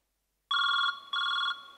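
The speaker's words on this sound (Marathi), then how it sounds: "माझ्या नवऱ्याचा फोन येतोय" A telephone rings in two bright electronic bursts after a moment of silence, loud and close with nothing else heard.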